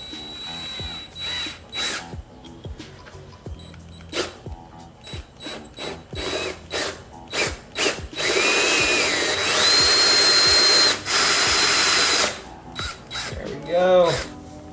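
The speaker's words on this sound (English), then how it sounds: "stick on the hole saw, center it on, cross my fingers and drill" A power drill whirs in short bursts, then a hole saw grinds continuously through a plastic motorcycle fairing for a few seconds before stopping, with a brief final burst.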